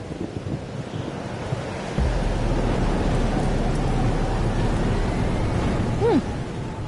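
Stormy weather in the video game Life is Strange, a steady roar of heavy rain and wind with a low rumble building midway, loud and continuous, with a brief rising tone near the end.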